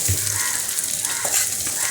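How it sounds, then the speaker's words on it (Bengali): Vegetables tipped into hot oil in a home kitchen pan while fish-oil chachchari is being cooked, setting off a loud, steady, broadband sizzle and frying hiss that holds for the whole stretch, with faint stirring scrapes. "এটা ভাজাভাজি হয়ে গেছে এরপর আমি সমস্ত সবজিগুলো এর মধ্যে দিয়ে দিচ্ছি"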